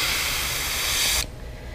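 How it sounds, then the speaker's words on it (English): A steady, loud hiss from a spray paint can, sprayed onto a stencil over a fishing lure, runs for just over a second, then cuts off abruptly, leaving near silence. "you want to spray mostly on your stencil"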